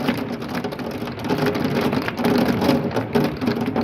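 Heavy rain with marble-sized hail pounds down hard and steadily during a severe thunderstorm, a loud, dense, unbroken roar of drops and pelting hailstones on nearby surfaces.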